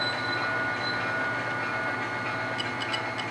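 An HO scale model train runs on a switching layout, pulled by a GP35 locomotive, giving a continuous rolling rumble with a faint whine and a few light wheel clicks toward the end.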